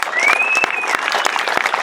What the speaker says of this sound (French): une salve d'applaudissements pour Bill